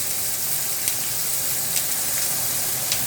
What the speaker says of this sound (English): And we're going to saute our onions.